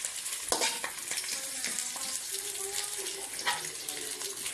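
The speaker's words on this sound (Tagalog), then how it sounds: "yung sarili nating gawang daing ang ating ipiprito" Homemade daing, dried fish, frying in oil for breakfast makes a close, continuous crackling sizzle with bursts of spattering, and a faint voice is heard in the background.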